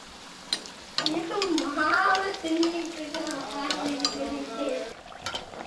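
Rice puri frying in hot oil in a kitchen and being flipped over, giving a steady close sizzle and bubbling with light clinks of a utensil against the pan, and a voice speaking over it.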